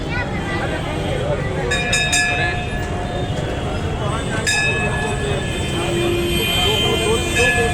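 A Lucknow metro train runs on the elevated overhead line, a steady rumbling rail roar with high tonal whines, heard close and loud over a crowded street with people talking.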